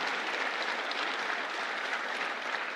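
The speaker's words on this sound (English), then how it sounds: "Give them all a round of applause." Sustained applause from a crowd listening to a political speech, an even, dense wash of clapping without talk over it.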